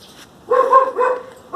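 A Shiba dog barks close by, giving two or three short, loud, whining yips in quick succession with brief pauses between them.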